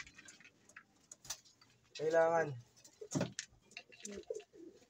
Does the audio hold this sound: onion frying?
no